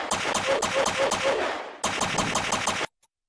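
A rifle fires rapidly in a VR shooter game, in two loud, close bursts of quick repeated shots split by a brief pause. The second burst stops abruptly, leaving silence.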